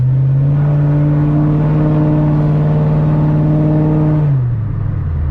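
A cammed V8 engine in a 3-valve Ford Mustang GT holds a steady, loud droning rev at about 2,000 RPM for several seconds, then the pitch drops as it eases off.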